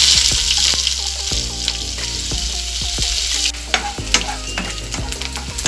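Onions frying in a pan of sizzling oil with fennel and cumin seeds, a loud steady crackle broken by repeated scrapes and knocks of a spoon stirring, with no voices.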